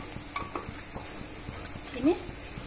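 A spoon stirs fish curry with potato, tomato and coriander powder in a pan, making soft, steady scraping and stirring strokes over a faint sizzle, fairly quiet and close, with a brief murmur near the end.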